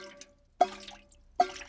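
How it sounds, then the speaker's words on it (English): Water drips from a leaking cartoon school roof in two distinct, close, bright plinks about a second apart, with a faint earlier drop and quiet background. "Look, it is going drippity-drip."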